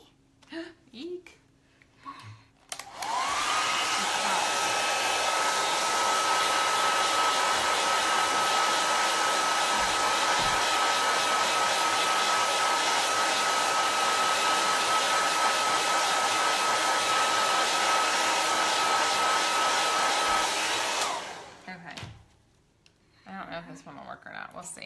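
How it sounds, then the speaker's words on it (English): A hair dryer blows steadily on wet craft paint, a loud continuous whooshing roar that starts abruptly, runs for about eighteen seconds and cuts off, with voices talking briefly before and after. "You want to blow dry?"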